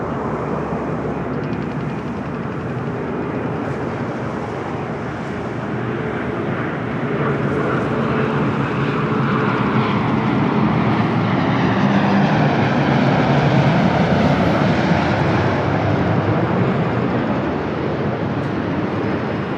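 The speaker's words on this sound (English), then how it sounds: "Next arrival is another Dreamliner, American Airlines Flight 26" An American Airlines Boeing 787-9 Dreamliner arriving at LAX makes a loud, sustained jet roar that swells and shifts in pitch as it passes, with no voices.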